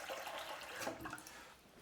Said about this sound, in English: I'm going to put the water in the pan first.